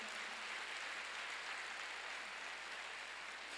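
Church congregation applause as a faint, steady wash of many hands clapping. It stays even and distant throughout, with no separate voices standing out.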